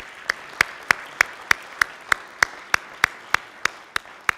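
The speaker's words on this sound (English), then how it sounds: "Please give them a round of applause" Clapping at a Toledo Rotary meeting: about fourteen crisp, evenly spaced claps in a steady rhythm, fairly close and clear over a quiet room, sounding more like one or a few people than a full crowd.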